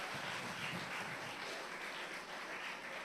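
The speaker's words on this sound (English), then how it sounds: "another big round of applause for Akeem Chandler Prescott with We Need to Talk." A big audience applauds Akeem Chandler Prescott at a CARIFESTA XV talk event with a continuous, even wash of clapping, distant and quiet but filling the whole stretch without speech.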